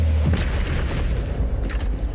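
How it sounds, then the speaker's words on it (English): Fireworks explode in a video game trailer as deep, heavy booms roll over one another, loud and close, with a sharper burst near the end. "Here come the fireworks!"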